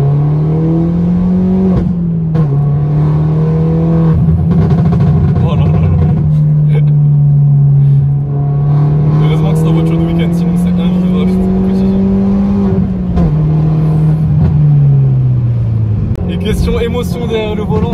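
Peugeot 208 GTI engine held at a steady, droning pitch while driving, rising and falling slightly and then dropping off near the end, loud throughout with road and cabin noise.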